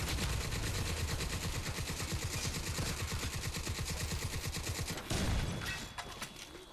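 Rapid bursts of shotgun fire ring out during Crysis 2 multiplayer on Xbox 360, a dense rattling volley of repeated shots that carries on for several seconds before tapering off, with no talk.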